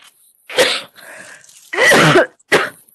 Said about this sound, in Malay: Dah banyak bercakap kan, batuk.